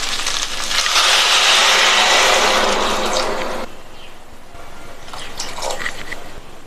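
Water poured into a pan of rice, a loud rushing splash for a few seconds that drops to a quieter bubbling, with a few light clinks.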